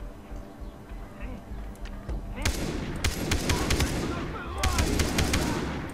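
Gunfire sounds in the video game Far Cry 3 during a pirate camp takeover, with several loud, sharp shots in quick bursts and a burst of rapid fire. Someone talks throughout.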